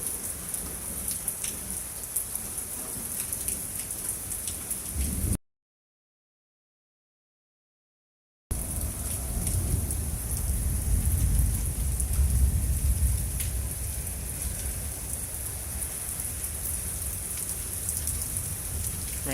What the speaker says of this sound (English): Rain has definitely picked up.